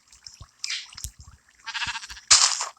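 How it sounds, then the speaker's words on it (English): Sheep in Minecraft give short, nasal blocky bleats in a mob farm, separated by soft squishy thuds, with the loudest bleat near the end. "Get some sheep spawn eggs. And we're going to watch these sheep plummet to their death."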